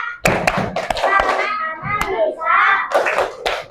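Classroom of children doing a rhythmic clap chant, sharp hand claps landing in a patterned beat mixed with children's chanting voices, close and lively.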